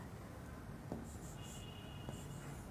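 Faint, soft strokes of a pen writing numbers during a maths lesson on multiplying fractions, a couple of light taps amid quiet room hiss with no talking.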